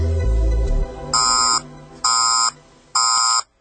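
Three evenly spaced electronic alarm buzzes sound loud and alone after a low thud, a sound effect in a Korean radio drama.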